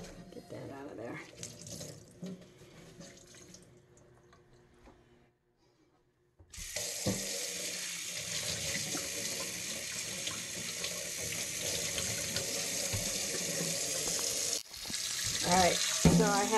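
Tap water runs hard into a sink over a rusted cast iron pan being rinsed, a loud steady gush after a quieter stretch of handling and clatter.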